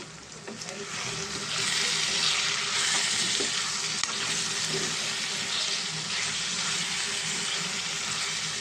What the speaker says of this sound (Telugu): మనం ములక్కాడలకి కారము, ధనియాల పొడి, మసాలా పట్టేంత వరకు మనం మంచిగా కలుపుకుందాం ఫ్రెండ్స్